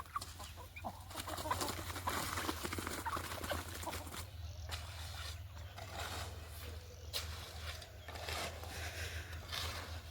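Chickens, large then small, clucking and shuffling close by as they are herded into a coop, with soft pattering footsteps and a steady low hum underneath, plus a few faint high chirps.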